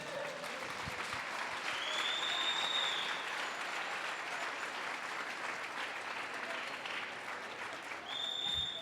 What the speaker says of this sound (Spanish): déle una ofrenda de palmas a Jesús